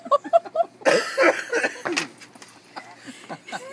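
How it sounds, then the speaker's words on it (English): Someone coughs in a harsh, sputtering fit of several close bursts, with laughter-like breaths and a few faint voices around it. "How are you coughing?"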